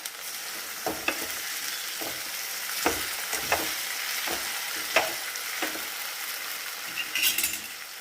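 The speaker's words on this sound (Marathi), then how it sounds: "छान मिक्स करून घेऊया।" Radish and potato bhaji stirred in a hot pan: a continuous sizzle broken by about a dozen irregular scraping strokes of a spoon against the metal, close and fairly loud.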